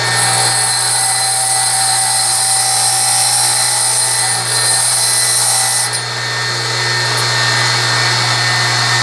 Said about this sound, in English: So you want to grind it a little bit deeper.